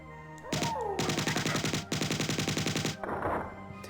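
Rapid automatic weapon fire in the Marathon first-person shooter game on an alien ship, two long bursts of evenly spaced shots, loud and close, ending with a short noisy burst.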